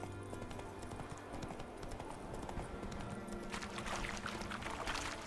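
Roach the horse's hooves clip-clop in a steady trotting rhythm in The Witcher 3, faint under quiet game ambience and background sounds.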